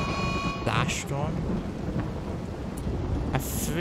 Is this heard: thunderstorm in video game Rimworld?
yes